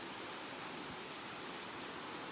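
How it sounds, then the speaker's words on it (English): Rain falling outside a mountain cabin in Jamaica's Blue Mountains, heard as a faint, steady, even hiss with no distinct drops or voices. "So I'm going to show you the rain now."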